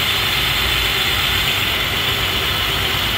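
A Chevrolet Beretta engine runs steadily at close range, slightly shaky and not idling smoothly, with a loud continuous drone and a faint hum beneath it. Nobody speaks.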